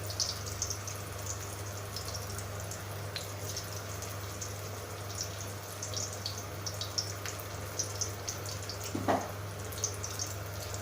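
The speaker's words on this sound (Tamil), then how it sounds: "நல்லா பொரிஞ்சு வரட்டும்." Raw banana slices fry quietly in a pan with faint, scattered crackles and pops over a low steady hum, with no voices.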